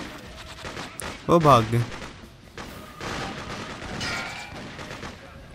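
Automatic gunfire in the video game Freedom Fighters crackles in a burst of rapid shots under ongoing battle noise, with someone speaking briefly over it.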